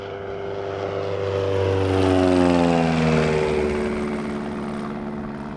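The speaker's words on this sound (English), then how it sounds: "We got a flyby coming here." A propeller airplane passes low over a fly-in gathering, its droning engine rising to a loud peak and then sliding down in pitch as it moves away, with no talk over it.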